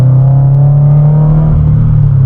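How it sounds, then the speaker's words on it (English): A modified Subaru BRZ with a catback exhaust, HKS dual resonated front pipe, JDL unequal length header and overpipe drones loudly and steadily, with a harmonic rumble that dips slightly partway through. "I got my new front pipe on the car, and the car sounds so good"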